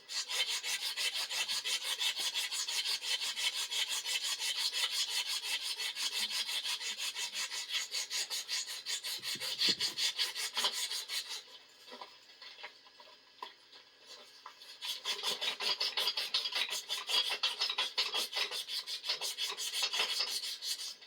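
Emery cloth rubs rapidly against the metal of an antique Walker model 782 two-ton floor jack, a fast rhythmic rasping that pauses briefly midway and then resumes, close and alone.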